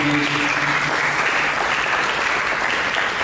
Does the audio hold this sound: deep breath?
no